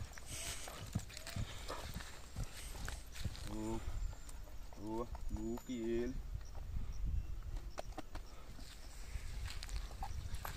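A horse being broken in on a ranch clip-clops its hooves in short bursts, close by, while people talk over steady background noise.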